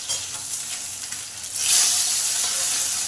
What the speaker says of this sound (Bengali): মাছগুলো সাবধানে উল্টে পাল্টে লাল লাল করে ভেজে নিতে হবে।